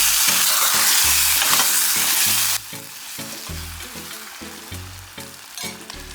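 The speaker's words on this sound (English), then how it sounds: "I will add the coconut milk" Mackerel rundown simmers and sizzles in a pot of coconut milk and oil, with a loud burst of frying noise that drops suddenly to a softer, steady bubbling, while low musical tones play throughout.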